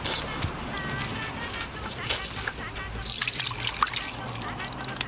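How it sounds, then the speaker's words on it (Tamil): Sambar poured from a serving vessel onto food at a meal, a soft liquid trickle and splash heard under steady background chatter and room noise. "சாம்பார் கேக்குறாங்க, போய் ஊத்து."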